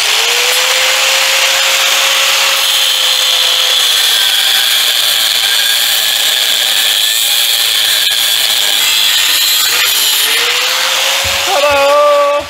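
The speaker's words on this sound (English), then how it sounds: "let me take it over there to the grinder. I'm going to grind her about half in two" A grinder fitted with a cutoff wheel screams loudly while slicing a part in half in a shop working on a 1940 Chevy with a 327 engine; a steady high whine with pitch shifts as it spins down and restarts.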